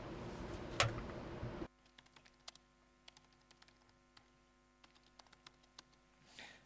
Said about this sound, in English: Es que no puedo teclear con la mano herida.